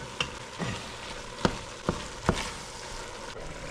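Red wine cooking down in a pot of lasagna soup, a steady sizzle and bubble broken by several sharp scrapes and knocks of a spoon stirring against the pot.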